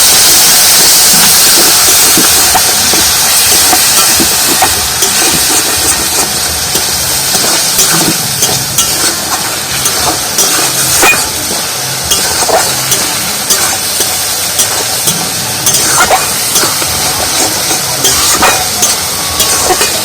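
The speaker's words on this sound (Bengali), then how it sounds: "এবার মশলাটা খানিকক্ষণের জন্য একটু কষিয়ে নেব।" Spice paste of onion, garlic, turmeric and salt with a splash of water frying in a pan for a potol and masoor dal curry, giving a steady loud hiss and sizzle with scattered scraping stirs throughout, no voices.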